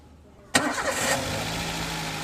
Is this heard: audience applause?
no